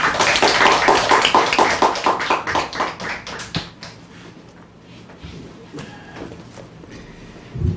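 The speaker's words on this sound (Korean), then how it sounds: "우리 선교사님 놓으실 때 박수로 환영합니다." A church congregation claps to welcome a missionary, a brisk burst of many hands clapping that thins out into scattered claps and quiet room noise.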